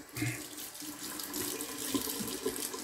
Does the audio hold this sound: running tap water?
yes